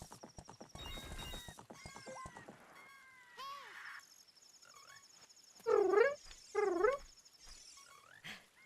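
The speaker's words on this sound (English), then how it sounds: "You smack your horse with a carrot." Horse neighing and galloping hooves from Zelda: Ocarina of Time 3D, with two loud, close whinnies near the end among game effects and faint voices.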